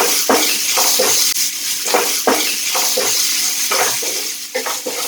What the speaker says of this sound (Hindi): ये देखो चटर पटर की आवाज आ रही है